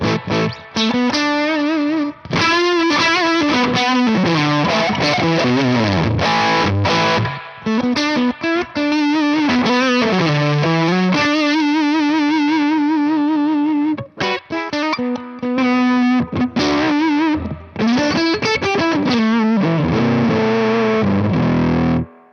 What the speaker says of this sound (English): So a real fuzzy, woolly Fender Deluxe combo sound.